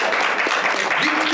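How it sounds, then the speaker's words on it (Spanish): A short burst of applause from a small group at a mariachi vocal class, brief and dense, with a voice speaking over it. "Aplauso, por favor."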